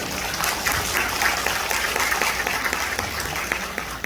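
Welcoming applause from a seated audience at a social service agency event in Gwangju as a remote speaker is introduced, a moderate, even wash of clapping heard alone.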